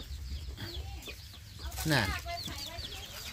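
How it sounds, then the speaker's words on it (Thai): Light Sussex chicks, newly hatched purebred laying hens, cluck and peep softly in their pen, with a louder call near the middle and someone speaking briefly. "นี่เลยจะพาท่านผู้ชมมาดูลูกไก่ไล่ซาเช็คนะครับ"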